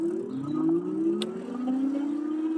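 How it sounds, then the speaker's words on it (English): A Retrospec Valen Rev+ moped-style ebike motor on throttle alone, a rising electric whine climbing in pitch as it accelerates on flat ground, fairly quiet but clear, no talking. "Certainly can hear that motor."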